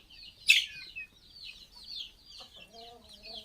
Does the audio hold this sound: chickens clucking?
yes